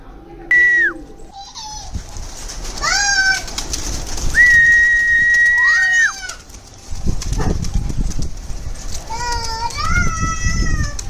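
Pigeons in a loft at feeding time, with a mix of coos, chirps and high calls rising and falling over several seconds, plus bursts of rustling and wing or movement noise; fairly loud and close.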